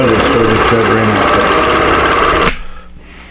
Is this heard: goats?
no